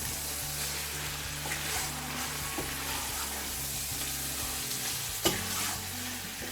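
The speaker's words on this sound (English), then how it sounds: "I'm gonna cook a little bit this meat in there" Meat sears in hot oil in a pot for biryani, a continuous close sizzle under a steady low hum, with a sharp clank from the pot near the end and no voices.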